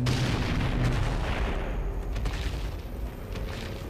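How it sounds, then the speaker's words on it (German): A loud burst of booming gunfire in the video game Darksiders 2, with a heavy low rumble, sustained and dense throughout, like rapid shots. "Oh, der Schuss war aber richtig geil."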